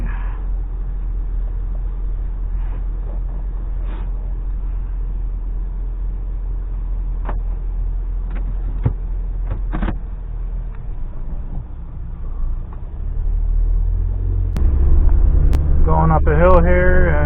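A Can-Am Outlander 2.4 CVT ATV towing a heavy 5x9 trailer uphill, with a steady low engine drone and drivetrain hum, rattles and knocks, under intermittent talk, swelling louder and rising in pitch near the end.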